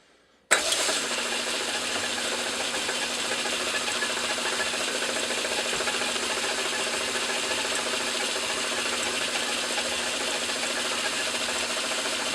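A metal lathe turning a steel beam engine eccentric down toward a 3/8 inch diameter, a steady close mechanical whir with faint gear rattle running evenly after a sudden start.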